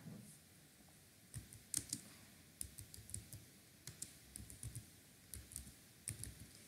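Keys on a computer keyboard clatter in quick, irregular bursts of clicks as a name is typed into a Java program, quiet and close with no voices.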